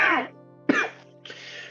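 A voice imitates a bearded man in a trench coat and heavy boots coughing into his arm. It gives three short, close, raspy coughs and throat clears, separated by brief pauses.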